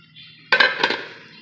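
Metal pot lid lifted off a pot of cooking rice, a sharp clink followed by a few rattling clatters over a quiet kitchen background, close and brief.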